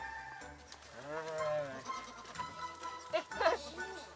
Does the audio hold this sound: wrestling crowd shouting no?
no